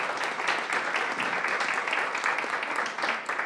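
An audience at a lecture event on Bartolomé de las Casas and human rights gives a round of applause, a steady, continuous wash of clapping from many hands with no pauses.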